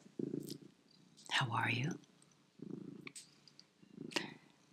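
A cat purring softly and close, in low rhythmic rumbles, with a woman whispering between them.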